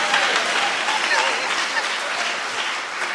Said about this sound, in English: You can applaud us.